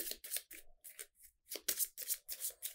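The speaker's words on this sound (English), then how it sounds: "We're going to need to shuffle here." A deck of cards is shuffled during a solo tabletop game of Ignite, making close, crisp riffling bursts in a quick, uneven rhythm with short pauses between them.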